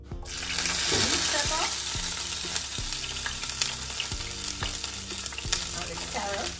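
Carrots, onion and celery hit hot oil in a pan, a steady close sizzle and frying hiss running throughout with occasional stirring clatter, no talking.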